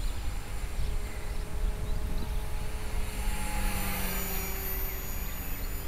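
An HK-450FBL radio-controlled helicopter with a Turnigy Typhoon 2218 motor flies at a field, its rotor and motor whine holding a steady, fairly loud pitch with slight shifts and no voices.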